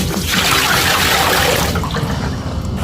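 Maple sap poured into a pan before boiling, a steady close splashing, gurgling pour that thins out toward the end, with no voices.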